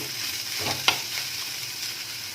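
Chicken filling sizzles in a frying pan over a medium flame while a spatula stirs it, with a sharp scrape near the middle over a continuous hiss.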